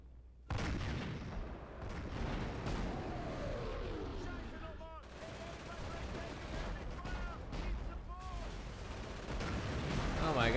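Artillery fire in the World War II strategy game Company of Heroes: repeated heavy booms and crackling shots over battlefield ambience, with someone talking across the whole stretch.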